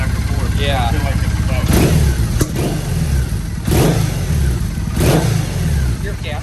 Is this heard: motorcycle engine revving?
yes